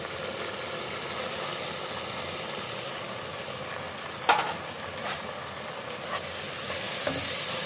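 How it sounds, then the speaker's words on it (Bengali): A spice paste of chili powder, turmeric, ginger-garlic paste, green chili and salt fries and is stirred in a pan, making a continuous close sizzle with a few sharp clinks of the spoon against the pan. "মশলাটা কষিয়ে নিচ্ছি"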